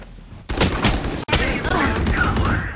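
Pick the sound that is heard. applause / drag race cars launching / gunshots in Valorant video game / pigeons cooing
gunshots in Valorant video game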